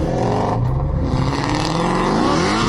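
Nissan 350Z on a track solo lap, a loud sustained engine drone with shifting pitch as it pulls, heard close from inside the car.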